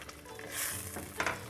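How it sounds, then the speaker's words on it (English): Tomato sauce bubbling and boiling in a cooking pan, a steady close hiss and sputter with a couple of louder pops near the end, no talking. "our tomatoes have only been cooking for 3 or 4 minutes, but you can see they're boiling"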